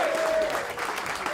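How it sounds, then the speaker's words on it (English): An audience at a battle rap title match claps in a dense, sustained round of applause, with a voice audible over the crowd. "give a round of applause"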